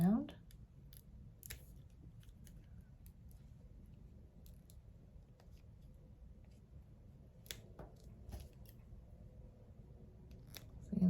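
Scissors snip around the edge of a dried acrylic paint skin, a metallic-coloured piece, giving a scatter of small crisp clicks and cuts spread over a low background hum, fairly close and faint.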